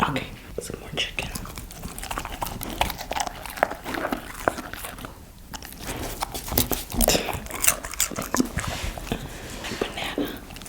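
Up close, a corgi puppy eats pieces of chicken, making rapid, crisp chewing clicks and smacking bites in uneven clusters while someone whispers softly nearby.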